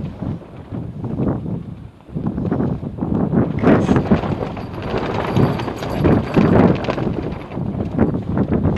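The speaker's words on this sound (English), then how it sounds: "and it's windy." Loud, irregular gusts of wind battering a Smittybilt Overlander rooftop tent's fabric, with flapping and thumping pulses that rise and fall, briefly easing before buffeting harder again.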